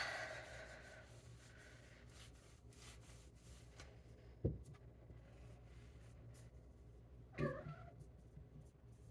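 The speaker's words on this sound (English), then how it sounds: "she's making her cat noises because of that" A cat meows in a home kitchen while cinnamon roll dough is being rolled out, a couple of short, faint calls standing out from a soft background of kitchen noise.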